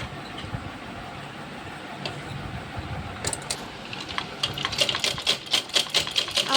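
Domestic sewing machine stitching an Afghani salwar, quiet at first, then a fast run of sharp mechanical needle clacks growing louder and more rhythmic in the last few seconds, no voices.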